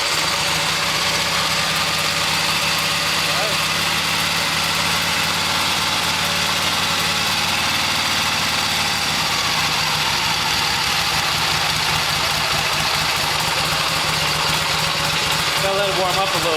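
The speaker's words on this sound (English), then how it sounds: "let's see if she fire up" A 1972 Harley-Davidson XLH Sportster V-twin, homebuilt, idles steadily and close up after starting on choke, with a continuous rough, loud rumble that carries on to the end.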